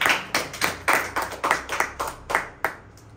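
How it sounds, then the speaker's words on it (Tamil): A congregation claps hands in praise to God during a church sermon, about a dozen sharp, close claps in a loose, uneven rhythm, with no talking. "கைத்தட்டி ஆண்டவரை மகிமைப்படுத்தும்."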